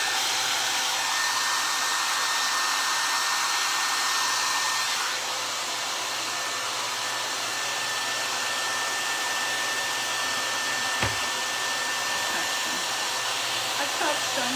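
A hair dryer blows air onto paper mache, a loud, steady whooshing roar that runs unbroken throughout with a single brief knock near the end.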